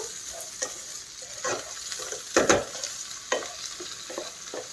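Fried rice ingredients are stirred in a hot pan, with intermittent scraping strokes over a soft, continuous sizzle, close and fairly quiet.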